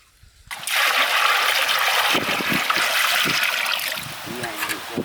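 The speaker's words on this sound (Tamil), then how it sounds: "அப்படியே தண்ணி ஊற்றிடுங்க." Water is poured out steadily in an outdoor village kitchen while river mussels are cooked, a loud, close, continuous splashing rush that begins abruptly and carries on with faint sounds underneath.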